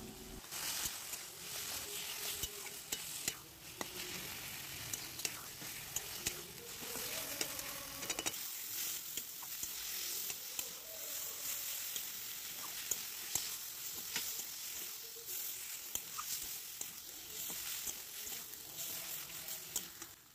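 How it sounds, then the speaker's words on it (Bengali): Cabbage being stir-fried in oil for a mashed cabbage dish, a continuous soft sizzle with intermittent stirring scrapes and small taps, fairly quiet and close, with no voices. "ভালো করে তেলের মধ্যে নেড়েচেড়ে ভেজে নিতে হবে।"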